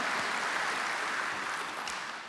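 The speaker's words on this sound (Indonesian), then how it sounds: "Yang percaya berikan tepuk tangan buat nama Tuhan" Church congregation at a worship service applauding for the name of the Lord, a steady wash of clapping from many hands that slowly fades toward the end, with no talk over it.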